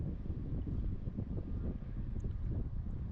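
Gusty wind buffets the microphone in a low, rumbling wash while bluegill fishing with a Zebco slingshot rod, a steady moderate roar with no talk.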